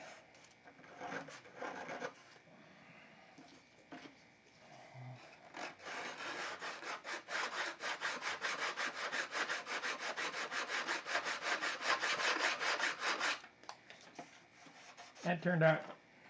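Grinding and filing on a Mega Tucker model wing part, with a steady rasping scrape of several seconds between brief bursts, close and fairly quiet.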